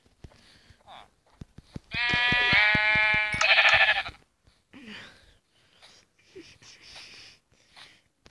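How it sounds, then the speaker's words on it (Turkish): A sheep in a Minecraft-style survival game lets out a loud, drawn-out bleat lasting about two seconds, close and prominent, with faint clicks and quiet scattered sounds before and after. "Aha, bir tane koyun gördüm."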